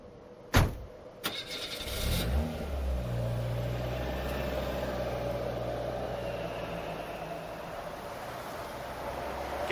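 A car engine turns over and catches, then runs steadily at a low rumble as the vehicle pulls away, with sharp clunks of a door or handling at the start and a sustained drone to the end.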